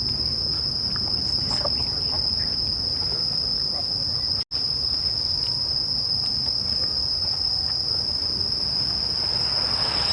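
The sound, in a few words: crickets chirping at night in Toyama Park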